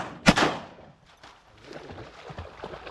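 A single sharp shotgun blast rings out at ducks on an opening-day hunt, followed by a short rumbling echo and quieter outdoor noise.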